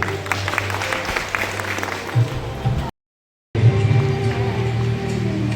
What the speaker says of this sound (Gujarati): આપણે જોરદાર તાળી દાવીશું